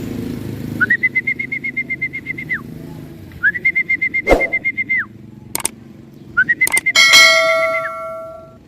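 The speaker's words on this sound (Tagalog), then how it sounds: "ang first bird natin, si Grisel" Racing pigeons landing at a loft after a training toss in Bocaue, Bulacan, marked by three bursts of rapid electronic beeping chimes from the arrival system, with sharp metallic clanks and a brief wing flutter near the end.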